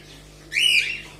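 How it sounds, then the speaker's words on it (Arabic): Small birds give a brief burst of high chirping and twittering near the middle, fairly close and alone, with a faint low steady hum underneath. "ايه رأيكم في صوت العصافير دي؟"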